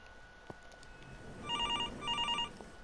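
A telephone rings inside a horror video game, two clear bursts of a bright electronic trill in the back half, moderately loud over a quiet, murky game ambience with a few soft thumps beforehand.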